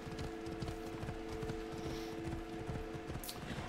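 Horse hooves clip-clop in a steady walking rhythm in the Assassin's Creed video game, moderately loud, with a constant tonal hum from the game behind them and no talk.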